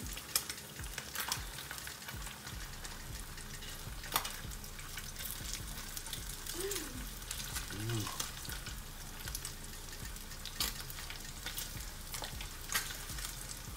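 Sauce poured over Spam sizzles and fries steadily in a pan on a stovetop, a constant crackling hiss with occasional louder stirring clicks and scrapes throughout.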